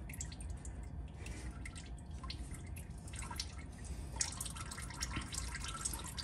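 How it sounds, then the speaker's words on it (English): Engine oil dripping back down from the oil pan of a 2007 Ford Crown Victoria in a garage during an oil change, a faint irregular patter of drips under a steady low background hum, with no voices. "it's starting to leak back down from the oil pan."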